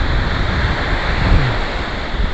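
Ocean surf washing up on Fort Lauderdale beach, a steady broadband wash of breaking water heard close by with some wind buffeting the microphone.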